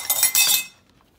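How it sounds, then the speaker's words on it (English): Pizza set down on a metal sheet pan gives a few quick, bright metallic clinks close by, then a short fade into quiet. "now I'm gonna put it on my sheet pan"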